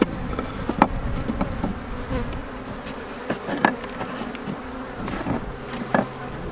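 Dense, continuous buzzing of many honey bees, close and loud, with a few soft knocks and rustles mixed in, at a bee farm.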